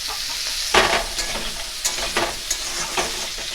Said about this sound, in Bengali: এই যে হালকা হালকা করে নাড়িয়ে সবজিগুলোকে সেদ্ধর মতন করে নেব